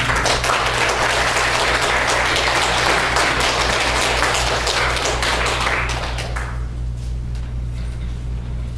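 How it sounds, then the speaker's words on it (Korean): Church congregation applauding, dense loud clapping from many people over a constant low hum, tapering off near the end. "박수 주시죠."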